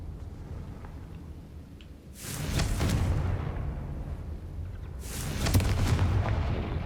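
Two loud, rumbling blasts from the Confringo fire spell in the video game Hogwarts Legacy, each a sudden burst that lingers and swells over a low steady background.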